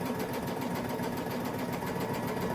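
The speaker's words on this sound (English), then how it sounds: "And sew from corner to corner." A sewing machine runs continuously, stitching fabric pieces from corner to corner with a steady, even mechanical whir and rapid needle chatter, close and uninterrupted.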